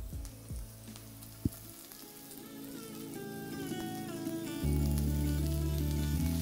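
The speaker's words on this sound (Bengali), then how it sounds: "তারপর এটাকে একবার ভালো করে ভেজে নিন।" Chicken with onion and capsicum fries for street-style Kolkata chowmein, giving a steady crackling sizzle over a low background hum, broken by one sharp knock.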